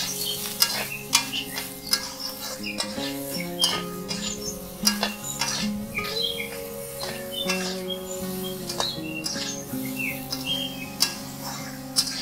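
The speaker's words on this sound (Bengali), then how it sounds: "এবারে ভালো করে ভেজে নেব।" Green beans and potatoes fry in a pan with turmeric and salt, a steady sizzle under repeated scraping stirs and sharp utensil clicks, close and continuous with no talk.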